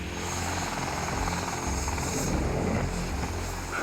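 Medical helicopter with both engines running and rotors turning, a steady, loud, continuous whine and thrum with no break.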